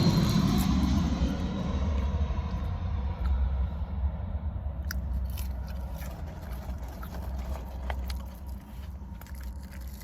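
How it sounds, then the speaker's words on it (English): Airplane flying low over an area near an airport, a loud, steady engine roar that slowly fades as it passes, with some nearby crunching and scraping sounds. "I'm by the airport if you hear the plane."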